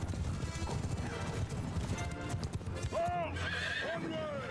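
Horses gallop in a Mount & Blade II: Bannerlord battle, with loud continuous clip-clopping hoofbeats and sharp whinnies near the end, over a dense background of battle noise.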